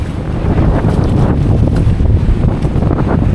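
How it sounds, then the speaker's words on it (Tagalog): Strong wind buffets the microphone in loud, continuous low rumbling gusts in a mangrove area, with no voices heard. "Mahangin ba? Napakahangin talaga kasi."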